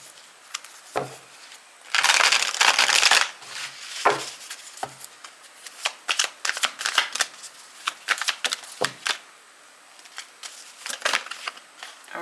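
A tarot deck is shuffled by hand close up: a loud riffle burst early on, then a string of light card flicks, taps and slides as cards are cut and spill out.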